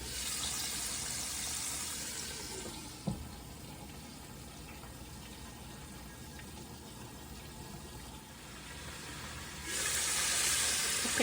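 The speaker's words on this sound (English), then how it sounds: "the pork chops are frying." Pork chops frying in a pan, two at a time, give off a steady hiss with a brief knock partway through, and the sizzle swells louder near the end.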